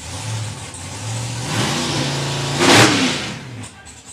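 A drag racing car's engine warms up close by, with a loud, rough idle that climbs into a sharp rev burst near the end and then settles back.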